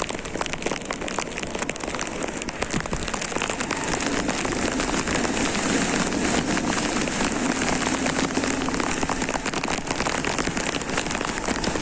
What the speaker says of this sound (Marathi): गाडी शक्यतो सावकाशच चालू आहे पावसातून